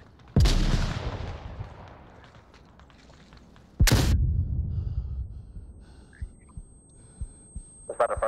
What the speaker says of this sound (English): Is that a friendly flashbang?